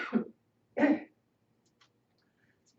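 A woman leading a YMCA senior fitness class gives two short, dry coughs close to the mic, separated by a brief pause, then near silence.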